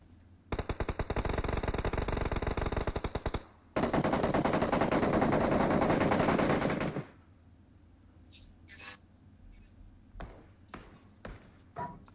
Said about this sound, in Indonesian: Tembak Cil.